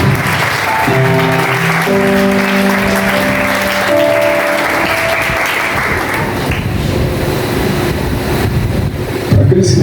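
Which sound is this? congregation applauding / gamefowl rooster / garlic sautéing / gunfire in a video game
congregation applauding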